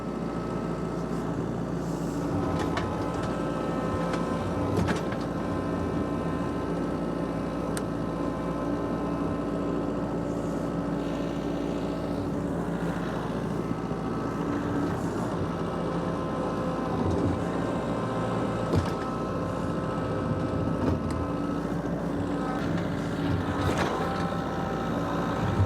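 Kubota LX3310 compact tractor with a four-cylinder engine running steadily outdoors in snow, a continuous smooth rumbling drone with faint clanks and wind noise over it, close and even throughout.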